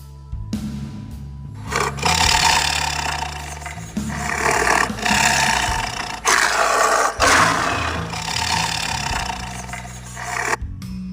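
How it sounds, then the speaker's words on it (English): A tiger roars in a series of long, loud, rasping bursts with short pauses between them, close and unaccompanied by any other sound. "Tiger."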